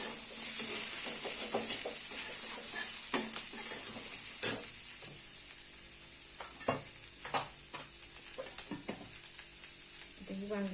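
Ingredients dry-roasting in a pan for khendat, a village-style Bhogi vegetable dish, with a steady close sizzling hiss and scattered sharp clinks of a spoon stirring against the metal, without any talk.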